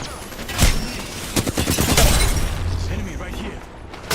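Rapid gunfire bursts and impacts in the video game Apex Legends, sharp cracks layered over dense action noise, with a player talking throughout.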